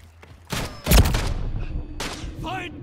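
Gunfire in a video game firefight, a few sharp bursts with a heavy thump near the start, followed by scattered shots and echoing noise at mid distance.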